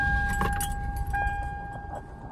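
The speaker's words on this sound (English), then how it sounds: "See, it's missing a little bit of idle." A car engine idles slightly roughly and misses a little, a steady close rumble with some faint metallic jingle, loud and continuous with no talk.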